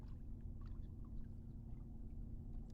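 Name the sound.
boats humming on a river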